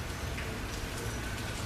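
Steady rain falls at night outside a church, a dense continuous hiss and patter with low rumble underneath, constant in loudness and with no voices.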